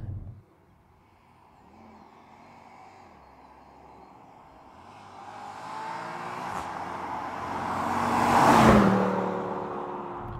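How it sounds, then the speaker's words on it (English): A Mercedes C63 AMG W204 V8 runs low at first with a deep rumble, then revs and builds steadily to a loud, rising roar that peaks near the end as it passes close by, with no speech. "I see this dirty, great big V8 and go, yes, but V8, it's lovely."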